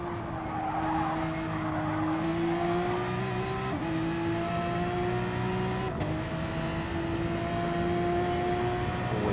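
A Porsche race car on a racetrack during a charity race event holds a loud, sustained engine note that rises steadily in pitch through the gears, with two brief shift dips, heard continuously from close by.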